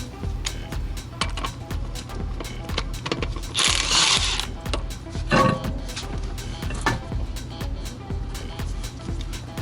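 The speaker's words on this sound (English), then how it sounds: "In order to remove these wheel nuts, we're going to go ahead and use a 13/16 socket." Ratchet fitted with a 13/16 socket working wheel nuts loose on a Toyota Century, repeated rapid clicking in quick bursts up close, with a louder rattling burst midway and a voice talking over parts of it.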